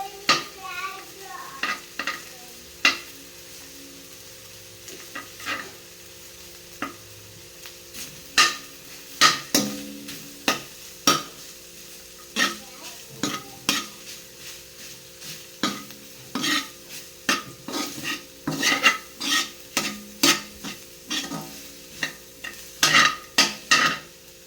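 Pork giniling sautéing with tomato paste in a pan, a soft continuous sizzle under frequent sharp scrapes and knocks of a spatula against the pan, growing busier toward the end.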